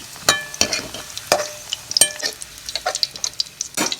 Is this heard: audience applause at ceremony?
no